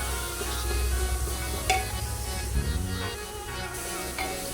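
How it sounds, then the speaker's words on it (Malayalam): Curry cooking in a pan with oil added, giving a steady, close sizzle with occasional light stirring clatter and a faint background hum. "ഞമ്മ വീണ്ടും കുറച്ച് എണ്ണ ഒഴിക്കുന്നു നമ്മുടെ കറിയിൽ"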